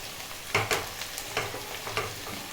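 Onions sautéing with a little salt in a pan for egg masala curry, a soft continuous sizzle punctuated by several sharp scraping stirs, close up and without speech.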